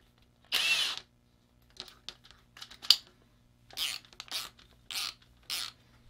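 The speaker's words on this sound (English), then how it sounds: "And then just take the excess and put it in your drill. And then you can just spin it." A small power drill whirs in short bursts while twisting wires together, first one longer spin then several quick starts and stops, close by and otherwise quiet between.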